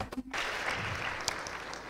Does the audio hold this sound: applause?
yes